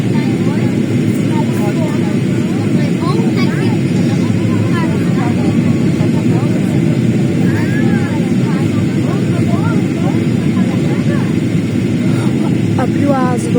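Airplane cabin noise on a first flight, a loud steady engine roar that never lets up, with people talking over it throughout.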